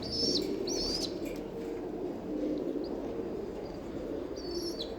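Soft, low cooing from sick pigeons repeats over steady background noise, with a few brief higher chirps from other birds.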